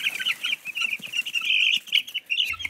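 A 22-day-old Barred Rock chick clucks and peeps in a quick, continuous high-pitched stream, close and clear with no talking.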